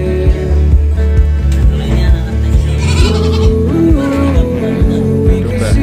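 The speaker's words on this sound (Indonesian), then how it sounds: "Domba Australia." Australian sheep kept on a goat dairy farm bleat loudly and repeatedly, with wavering cries overlapping one another against a busy barn background.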